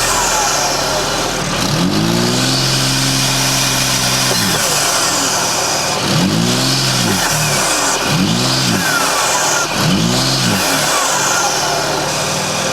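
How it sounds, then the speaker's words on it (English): A straight-piped car engine revs hard several times, air intake whooshing loudly as each blip climbs and falls, with steady engine noise between the revs. "So yeah, that's how the air intakes sound."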